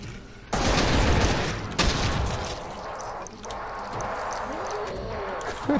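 Rapid gunfire and heavy blasts from the first-person shooter game Brutal Doom on the E1M2 level at Ultra Violence difficulty: loud, dense volleys that open abruptly and carry on almost without a break, with a voice speaking faintly underneath.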